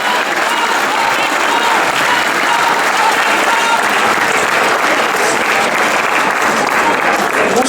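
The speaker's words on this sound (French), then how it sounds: "Bravo, on peut l'applaudir très fort." A large crowd claps loudly and continuously at an open-air gathering of performing-arts workers in Besançon, a dense, even roar of hands that holds steady without pause.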